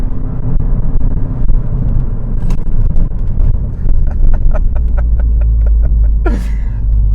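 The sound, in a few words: high-performance car engine accelerating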